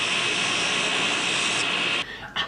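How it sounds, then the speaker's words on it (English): A grinder run from a generator whines loudly and steadily with a broad hiss for about two seconds, then cuts out abruptly, leaving a brief quieter tail. "Grinder is working."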